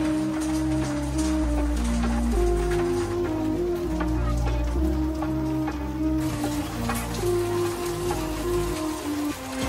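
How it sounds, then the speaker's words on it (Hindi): Heavy rain falls steadily outside a lake palace hotel in Udaipur during breakfast, a continuous loud wash of drops with a low hum beneath and faint bird calls. "इसकी बढ़िया बारिश हो रही है"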